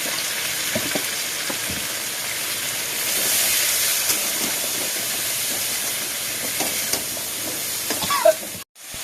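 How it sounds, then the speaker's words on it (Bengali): Drumsticks and potatoes sizzle in a hot pan as water is poured in, giving a loud steady hiss that swells midway and breaks off sharply near the end. "সজনে আলু দিয়ে ভালো ভালো করে একটু ভেজে নিলাম জল দিয়ে দিচ্ছি"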